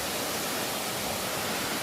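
Tad waterfall in Champasak, Laos, roaring as a steady dense wash of falling water, loud and continuous with no voices.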